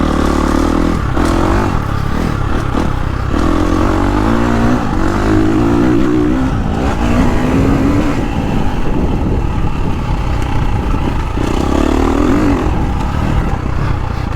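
A 350cc motocross bike, such as a KTM 350 SXF, KTM 350 XCF or Gas Gas MC350, roars loud and close as its engine and exhaust rev, rising and falling continuously on a slippery track, with no talking.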